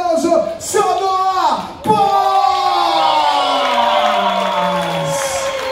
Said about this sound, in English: Let's make a big round of applause